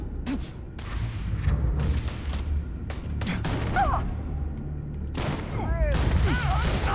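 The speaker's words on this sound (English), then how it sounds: "Let's try out the shotgun." Shotgun fire in the space video game Starfield: several loud, broadband blasts go off in irregular succession over a dense rumbling backdrop of combat noise, with short tonal chirps from the game between shots.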